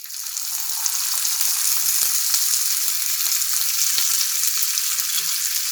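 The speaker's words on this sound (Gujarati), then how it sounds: "સારી રીતે એને ફ્રાય થવા દઈશું" Karela (bitter gourd) peel frying in oil in a pan for stuffed mirchi vada: a steady, dense sizzle with no pauses and occasional faint clicks of a utensil, close and constant.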